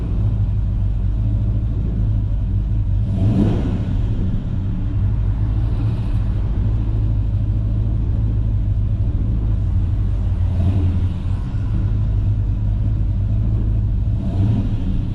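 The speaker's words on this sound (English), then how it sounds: "Car sounds really good." A 1965 Chevrolet Biscayne engine rumbles loudly and steadily, with a few brief revs swelling over the drone, no talking.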